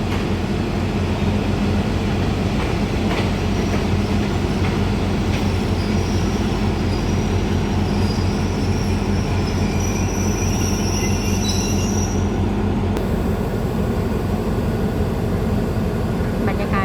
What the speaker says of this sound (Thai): ชั้นชลาที่หกขบวนชานเมืองที่สามหนึ่งสามก็กำลังจะออกจากสถานี